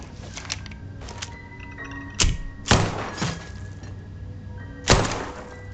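Gunshots at a metal plate in the video game Starfield come as several sharp, loud impacts with ringing tails, spaced irregularly over a quiet hum.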